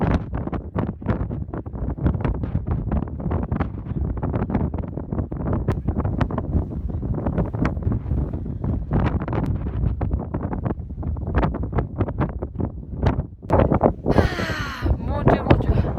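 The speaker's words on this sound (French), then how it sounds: "il y avait un vent énorme qui nous poussait, mais vraiment très fort" Strong mountain wind in Corsica batters the microphone in loud, continuous gusty rumbling that dominates the whole stretch, with a brief voice near the end.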